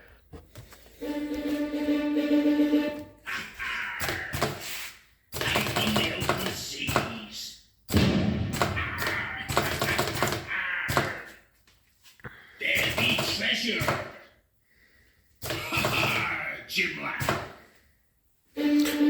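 A homemade animatronic cannon prop whirs and clunks through its mechanism in repeated bursts, mixed with knocking and clicking movements and a steady tonal hum near the start, close and fairly loud.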